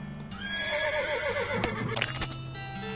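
Horse in the western role-playing game West of Loathing, stabled at a horsery, lets out a clear, wavering whinny with a few hoof clops and a jangle underneath, fairly close and loud against a steady musical bed.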